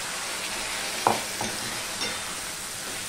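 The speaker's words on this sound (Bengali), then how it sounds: "সমানে এটা নাড়তে থাকবো যতক্ষণ না জলটা শুকায়" Boiled spinach stirred in a pan while its water cooks off, a steady soft sizzle with a few clear scrapes of the spoon against the pan.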